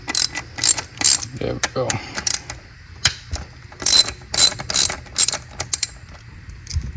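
A ratchet loosening bolts on a 1.5T Honda Accord during a cold air intake install: repeated bursts of sharp, rapid clicking, close and loud, separated by short pauses, with a brief spoken remark.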